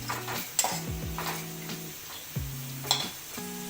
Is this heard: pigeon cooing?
no